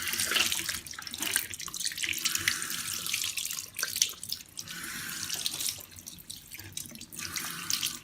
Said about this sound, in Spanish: Enjuagarse con agua limpia cuidando que no queden restos de jabón o detergente.